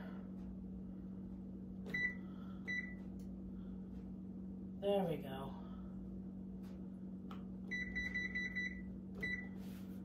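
A kitchen timer is set with a few short electronic beeps and a brief burst of rapid beeps over a steady appliance hum, while a person speaks briefly.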